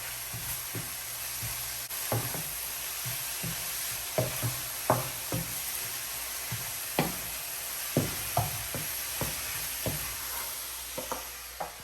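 Freshly chopped parsley is stirred in a hot frying pan, a spoon scraping and knocking in irregular close taps over a soft steady sizzle.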